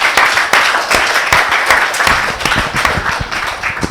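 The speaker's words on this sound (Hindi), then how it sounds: "तीनों कवियों के लिए जोरदार तालियां बजा दीजिए" Crowd at a Hindi poetry gathering (kavi sammelan) giving loud applause for three poets, dense close clapping with a few sharp individual claps standing out and a low murmur underneath.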